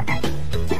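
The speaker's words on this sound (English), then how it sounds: "Green, like a frog." A frog croaks loudly up close, three or four throaty, rhythmic croaks in quick succession.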